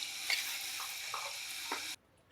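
Potatoes frying in oil in a kadai, a continuous close hiss of sizzling with a few faint scraping touches, cutting off abruptly near the end into quiet.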